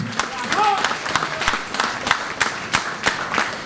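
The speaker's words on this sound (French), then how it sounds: "je vous demande un applaudissement pour le Premier ministre." Scattered audience applause for the Prime Minister at a Haitian women's affairs ministry event, with individual claps ringing out irregularly and voices chatting over them.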